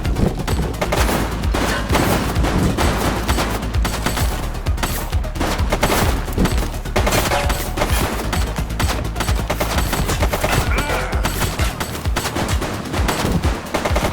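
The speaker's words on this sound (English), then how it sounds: "She's shooting!" A suspect firing at police in The Precinct, heavy rapid gunfire with bursts of automatic shots packed closely together, loud and continuous across the whole stretch.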